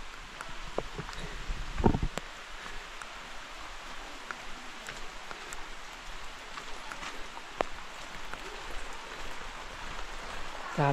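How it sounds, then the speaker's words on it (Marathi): Rain falls outdoors in a Konkan village during rice-planting season, a steady wash of drops on surfaces mixed with wind buffeting the microphone and a few sharp knocks. "मस्त पाऊस आलाय."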